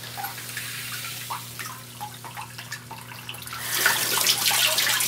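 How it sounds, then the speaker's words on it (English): Water gushes out over the control head of a Bedrock Buster gold recovery pump, a steady close splashing rush that swells louder in the last second after scattered drips and trickles. "Now the water is expelled over the control head."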